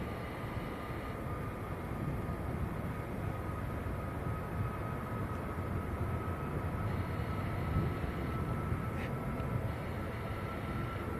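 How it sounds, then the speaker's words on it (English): A Ryanair Boeing 737 MAX airliner departing Manchester Airport for Faro, a broad steady jet roar with a sustained tonal whine, heard from a distance and unchanging throughout. "this is Ryanair to Faro. And this is a Max."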